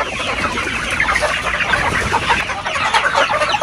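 A flock of Dekalb Brown and Rhode Island Red chickens clucks and chatters continuously, many birds overlapping close by, with no talking.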